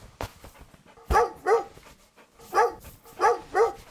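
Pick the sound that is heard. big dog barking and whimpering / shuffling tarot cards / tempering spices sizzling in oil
big dog barking and whimpering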